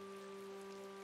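Steady rain in the video game Tales of Vesperia, a constant soft hiss of falling drops with a faint tonal hum running underneath, even and unbroken with no one talking.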